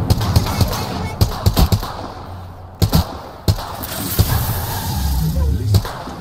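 Sharp gunfire bursts from a video game shooter, with a run of rapid shots early, scattered single cracks and a heavy blast near the middle, over a steady background rumble of the game.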